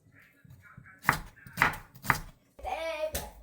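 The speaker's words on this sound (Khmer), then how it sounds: "យើងហាន់វាជាចំណិតស្ដើងអញ្ចឹងមក" Red and yellow bell peppers are sliced thinly with a knife on a board: a few crisp, evenly spaced chops, close and clear, with someone talking between and over them.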